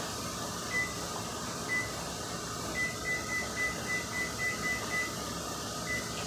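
Pressure canner forcefully venting air while canning navy beans: a steady loud hiss of escaping steam, with a faint repeating high beep-like tone pulsing through it.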